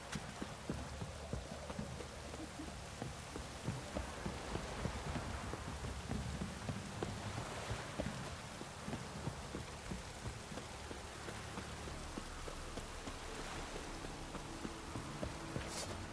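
Steady, dense rainfall in The Witcher 3: Wild Hunt pours down throughout, a constant broadband hiss with scattered drop patter and no voices.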